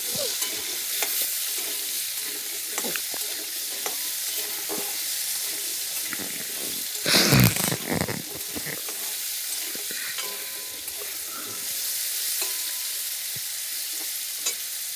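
Carrots and potatoes fry lightly in a pan, giving a continuous sizzle with scraping stirs throughout and a brief louder clatter or splash about midway.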